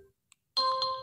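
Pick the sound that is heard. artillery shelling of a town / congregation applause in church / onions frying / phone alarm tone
phone alarm tone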